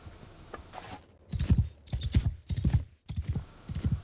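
Horse hooves clip-clopping through storm-muddied ground in the video game Mount and Blade Bannerlord, a steady galloping rhythm of heavy thuds in bursts, fairly close and loud, with no voices.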